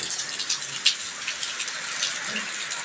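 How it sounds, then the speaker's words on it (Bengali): Heavy rain pours down in a steady, close hiss of drops hitting surfaces, with small spatters standing out and no voices. "কি বৃষ্টি নামছে এগুলো বুঝলাম না"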